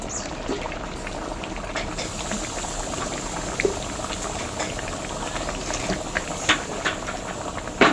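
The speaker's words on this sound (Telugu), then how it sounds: "బాగా మెత్తగా ఉడకబెట్టాలి ఫ్రెండ్స్." Moong dal curry bubbles steadily in a pot, a close, continuous boil with scattered pops and plops over a soft hiss, no talking.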